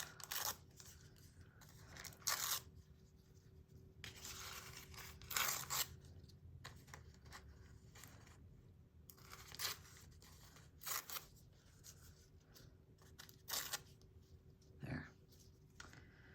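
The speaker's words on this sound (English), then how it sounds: "This is why I tear the edges. I tear the white off." Pieces of paper have their white edges torn off by hand, giving a quiet series of short, separate ripping bursts with pauses between them and no talking.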